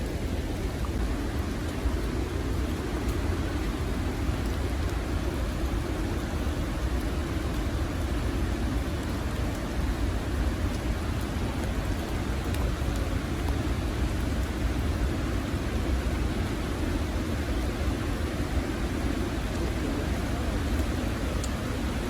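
Steady, dense roar of heavy rain and rushing water at Haew Suwat waterfall in Khao Yai fills the whole stretch, a constant broadband wash with no clear breaks.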